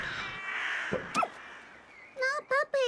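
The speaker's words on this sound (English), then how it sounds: "Freaking blackbird!" Harsh cawing of a blackbird in the video game Little Misfortune: three loud, close caws in quick succession near the end, after a quieter stretch of game sound with a brief cry.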